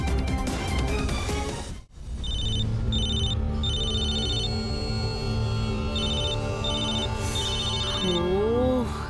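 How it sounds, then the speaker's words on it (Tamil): A landline telephone rings in a home with repeated bursts of a bright electronic ringtone over a steady background of music and room noise. "பேசாம லேண்ட்லைனுக்கு ஃபோன் பண்ணலாம்."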